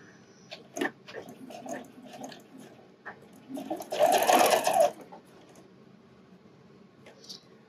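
A sewing machine stitches down a seam on a wireless bra, one short loud run of stitching in the middle, set among quieter handling sounds and rustling fabric.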